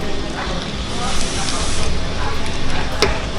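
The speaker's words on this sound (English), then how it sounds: "This is the critical stage where we can hear the first crack, and I can literally hear the popping" Coffee beans in a roaster crackle through first crack, a loud, steady hiss and rush of the roasting drum with scattered sharp pops throughout, close by.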